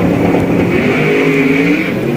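A loud drag race car at Sick Week 2024 roaring hard under full power, engine note wavering through a launch with tire shake, continuous and close with no pause.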